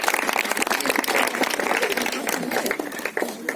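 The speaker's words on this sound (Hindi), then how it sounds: "तो अंकिता के लिए तालियां रुकनी नहीं चाहिए बेटा" Sustained applause from an audience of schoolchildren and teachers at a district prize-giving ceremony, a dense continuous wash of clapping filling the whole stretch without breaks.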